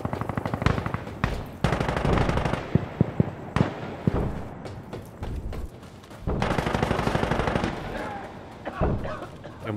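Gunfire in the video game Insurgency Sandstorm: dense bursts of automatic rifle fire and single sharp shots, loud and close, with pauses between volleys and a voice talking at times.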